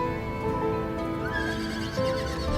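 A horse in the Final Fantasy XIV video game neighs with a drawn-out whinny over steady clip-clop of hooves and continuous game music, loud and close, with no talk.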